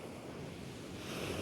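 Sea waves wash onto the shore along the Tece seafront in Mersin, Turkey: a soft, continuous surf rush with gusts of wind buffeting the microphone, fairly faint and with no voices.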